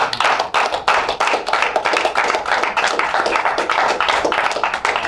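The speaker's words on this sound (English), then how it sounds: "Big round of applause to you guys." A small audience at a summer manufacturing internship presentation claps in a close, distinct rhythm of individual hand claps, moderately loud and steady with no voices.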